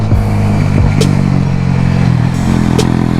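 A motorcycle engine held at high revs while riding fast through curvy hills, a loud continuous rasping drone with shifting pitch and brief mechanical clatters, close and with no talk.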